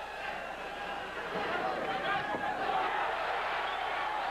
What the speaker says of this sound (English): the crowd overreacting every time Benavides throws a punch